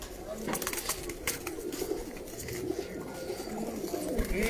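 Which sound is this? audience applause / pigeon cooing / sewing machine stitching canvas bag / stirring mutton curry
pigeon cooing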